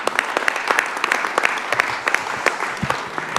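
Applause at a municipal council meeting, a brief burst of steady clapping from a modest group in the room, with individual claps audible over the general patter throughout.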